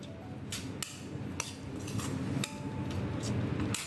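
A spoon clinks and scrapes against a bowl while turmeric, chili powder, cumin powder, salt and asafoetida are mixed for a paneer besan chilla batter, giving repeated sharp taps over a steady scraping, close and clear with no talking.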